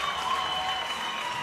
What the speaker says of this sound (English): the German crowd letting the home team hear it